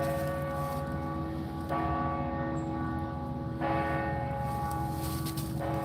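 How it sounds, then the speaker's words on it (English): A church bell rings loudly in a sustained, resonant toll with long ringing decay, struck again at regular intervals of about two seconds, heard alone during a nighttime paranormal investigation at a colonial site. "And that bell is hitting hard."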